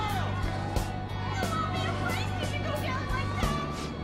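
Crowd cheering in the Persona 5 video game, a steady roar of many voices with occasional whoops and shouts rising out of the mass.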